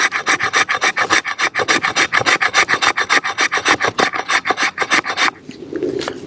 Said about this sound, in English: So we can just carve us off a couple of little curls there and just scrape some of it.